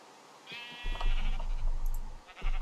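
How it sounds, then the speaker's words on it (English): Sheep bleating in the Minecraft modpack GT New Horizons, one wavering bleat up close followed by shuffling game noise and a second short bleat, with no talking. "Come here, sheep."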